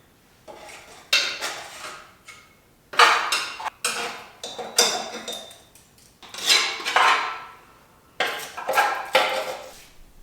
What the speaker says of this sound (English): I'm going to kind of jack up the front, crawl underneath, and scrape out all that grass and junk underneath